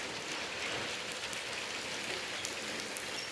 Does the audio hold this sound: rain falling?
yes